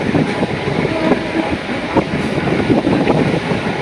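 Chakra Rail circular train in Kolkata running along the rails beside the Ganga toward Shobhabazar, heard from aboard: a close, steady rumble broken by repeated wheel clacks and knocks, with no voices.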